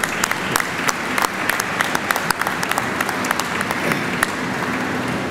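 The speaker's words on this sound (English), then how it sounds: "let's give you a round of applause for acknowledgement" Audience applause at a gathering honoring construction work, a dense, steady wash of many hands clapping throughout with sharper individual claps popping out, fairly close and continuous.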